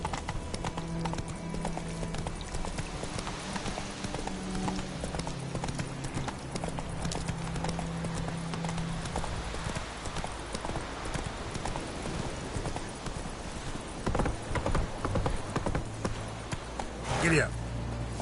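Horse hooves in The Witcher 3 clip-clop in a quick, steady rhythm throughout, close and clear, with a rider's voice calling out over the galloping.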